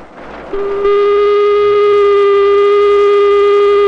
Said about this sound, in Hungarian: A dudaszó az éjszakai munka végét jelzi.